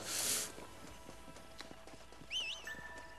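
Horse hooves clip-clopping in the video game Red Dead Redemption, a faint, quiet patter of hoofbeats with a short whistle-like tone, near but low in level.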